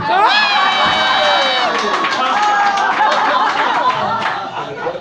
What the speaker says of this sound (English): Crowd reaction. It's all about the crowd reaction.